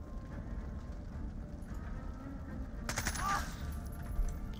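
Gunfire in the Jagged Alliance video game: a sharp burst of shots cracks out near the middle, with another brief shot toward the end, over a steady low background rumble.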